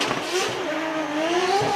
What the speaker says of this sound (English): A lot of popping from his 2J GR86.